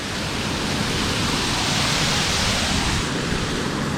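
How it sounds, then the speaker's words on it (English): Water pours steadily through a 20-foot-wide drain tunnel, a loud unbroken rushing wash close by, with no voices. "so this is about a 20 foot wide drain, and this water is always draining in here"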